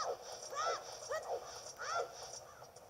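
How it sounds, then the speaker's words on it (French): Crows caw in the video game Zelda Ocarina of Time 3DS, a few harsh cries coming in two bursts over a steady game background hum, moderately close. "Je me fais agresser par des corbeaux."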